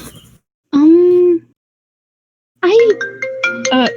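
A phone rings during a puppet-themed first-person shooter game. Two bursts of loud electronic tones, the first a sliding wail and the second a busier warbling pattern, are separated by silence.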